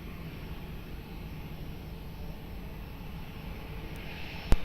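A distant airliner approaching Lisbon Airport on final approach to runway 02, with a steady low engine rumble throughout and a sharp brief click near the end.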